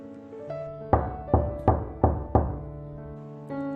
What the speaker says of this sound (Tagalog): nang marinig niya ang katok